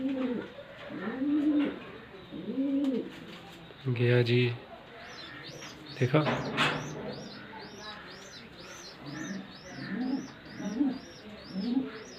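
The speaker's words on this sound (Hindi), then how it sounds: "बच्चा इसका भूखा है, आवाज़ें कर रहा है।" Repeated soft cooing calls from a hungry young pigeon squab come in short rhythmic bursts, close by, with brief speech and higher chirping squeaks in between.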